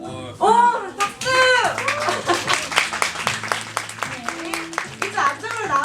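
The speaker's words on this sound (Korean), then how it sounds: "오, 박수." An audience claps at a live event's prize draw, with dense bursts of hand claps rising and fading while people talk and call out over them.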